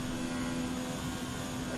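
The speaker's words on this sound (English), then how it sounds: "You can listen to the sad engine all the way down the straightaway" A struggling Formula 1 car engine in the F1 2019 game howls down the Azerbaijan straight as a steady, strained tone that holds constant pitch at moderate volume, with no talk.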